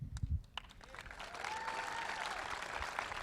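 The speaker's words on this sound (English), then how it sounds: "Get the applause after every statement here" Applause from a crowd at a Florida softball national championship celebration swells after a few sharp thumps and holds as a steady, moderately distant wash of clapping to the end.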